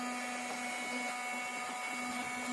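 A small made-in-China battery-powered vacuum cleaner runs inside a 2005 Ford Transit Mk6 van, giving a steady close motor whine with a strong constant tone and no pauses or speech.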